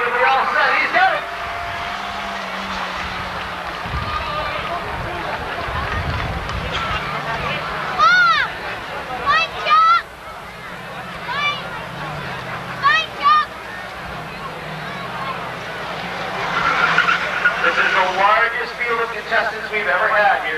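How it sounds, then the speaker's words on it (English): Race cars at Seekonk Speedway weekly racing in 1997, a Volkswagen Scirocco and a Ford Probe among them, give a steady engine drone beneath loud, continuous announcer commentary over a public-address system. "The Scirocco now pulls out into the lead. The Probe right behind him, down the back straight they go."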